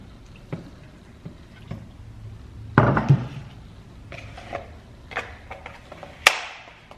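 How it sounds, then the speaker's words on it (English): Water and soy milk are poured into a smoothie mix in a home kitchen, with scattered soft taps and clinks of containers and one brief louder splash in the middle, close and fairly quiet. "So I'm just gonna hit it with a little water and a little soy."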